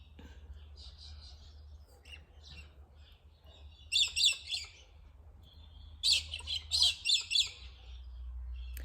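Birds chirp outdoors on a bright day close to spring, in short bursts of high tweets. The calls come louder in two clusters partway through, over a low rumble of wind or traffic.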